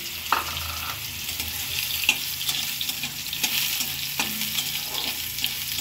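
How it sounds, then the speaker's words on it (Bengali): Soybean chunks fry in hot oil seasoned with panch phoron, a steady bright sizzle with occasional scraping stirs and clinks of a spatula against the pan, close and continuous with no talking. "সয়াবিনগুলোকে অল্প একটু ভেজে নেব।"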